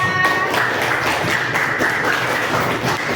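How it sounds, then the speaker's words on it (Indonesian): Elementary classroom applauding a student group after their presentation, a loud, continuous burst of many hands clapping with distinct individual slaps, close and without speech. "Tepuk tangan untuk kelompok 3."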